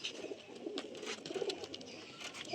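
Soft Giribaj and Nafta pigeon coos in a quiet indoor space, low murmuring calls repeating under faint background hiss, with no voices.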